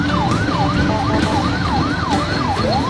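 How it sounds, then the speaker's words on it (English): Ambulance siren wailing loudly and steadily in a repeating up-and-down sweep, close and continuous over road and engine rumble, with no voices. "I'm in an ambulance."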